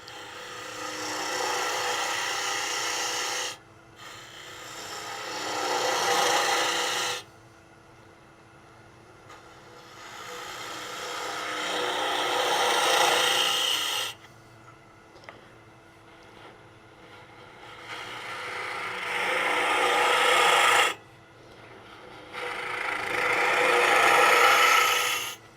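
Spindle gouge cutting a cherry wood lidded box on a lathe, a steady rasping scrape in several long passes of about three to seven seconds each, separated by short pauses, loud and close with no talk.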